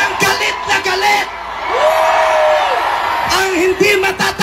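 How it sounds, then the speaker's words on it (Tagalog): An angry crowd at a street rally on EDSA shouts and yells together, sustained group cries rising and falling with bursts of whooping, loud and close. "Sumigaw lahat ng galit."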